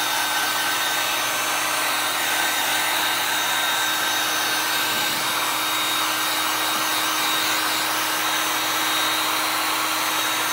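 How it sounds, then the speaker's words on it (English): A heavy-duty dryer blows with a loud, steady roar and a constant whine over chalk artwork, running for about ten seconds without a break. "Over to my heavy duty dryer here."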